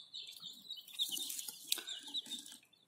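Dense, high-pitched peeping from a cluster of newly hatched chicks, continuous and overlapping, fairly close with no voices.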